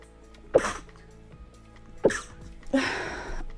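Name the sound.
sneeze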